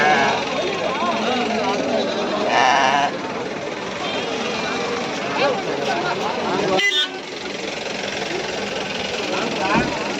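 Sheep and rams bleat repeatedly amid the bustle of a busy Sunday livestock market, with voices talking in the background and occasional vehicle horns and engine noise nearby.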